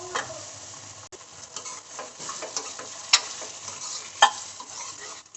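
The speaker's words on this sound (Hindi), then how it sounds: "फ्राई होने देंगे और टमाटरों को पकने देंगे।" Chopped tomatoes fry with lightly browned onions in a pan, giving a quiet, steady sizzle broken by soft stirring scrapes and a couple of sharp clicks of a utensil against the pan.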